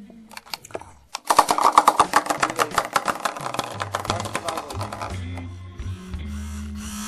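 Sonic Bomb alarm clock bed shaker vibrating in a dense, rattling mechanical buzz that starts abruptly and runs steadily for several seconds, close and fairly loud, tapering to a lower hum near the end.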